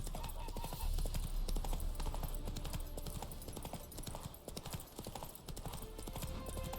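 Roach the horse gallops in The Witcher 3 on PS5, rapid rhythmic hoofbeats running continuously under game music and a voice.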